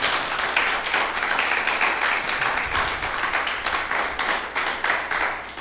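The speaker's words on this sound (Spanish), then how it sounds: "dale un aplauso a Jesús" A church congregation applauds steadily, dense clapping from many hands filling the room for several seconds without letup.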